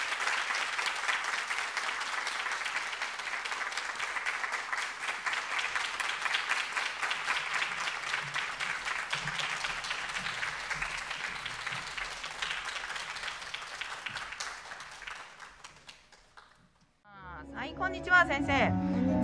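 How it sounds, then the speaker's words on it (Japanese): An audience claps steadily to welcome a high school choir onstage, broad sustained applause lasting about fifteen seconds before fading out, followed by a few notes of music. "拍手でお迎えください。"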